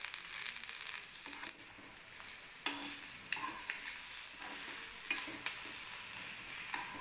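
Egg fry with sprinkled coriander sizzles steadily in a pan on low flame while a utensil scrapes and stirs it in irregular strokes, close and moderately quiet.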